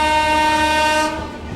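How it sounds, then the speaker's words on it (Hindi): An express train at Kanpur Central sounds a long, loud, steady horn as it passes close by, the blast cutting off near the end and leaving the rolling rumble of the train. "बढ़िया हॉकिंग करते हुए आ रहा है भाई।"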